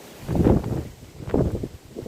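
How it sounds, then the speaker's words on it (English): Gusty wind buffets the microphone in low rumbling surges, rising and falling twice over a couple of seconds. "It is extremely windy."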